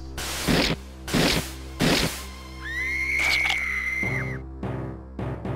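A Pokémon cry, apparently Miltank, sounds in the Pokémon Nightfall video game: a rising, wavering electronic call after three loud rhythmic thumps, followed by softer game sounds.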